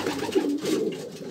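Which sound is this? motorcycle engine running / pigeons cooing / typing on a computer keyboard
pigeons cooing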